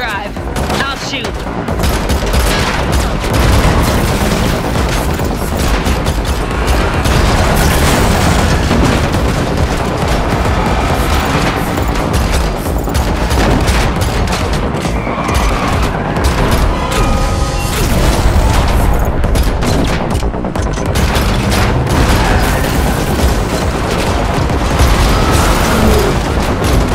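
Dense, loud gunfire during a car chase in The Matrix Awakens, continuous bursts and booms layered over roaring engines and action noise for the whole stretch.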